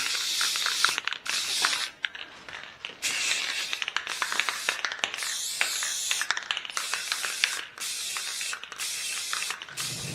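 Bursts of hissing aerosol spray as a semi-gloss clear top coat goes on over spray-painted furniture, with repeated spurts separated by short pauses, loud and close.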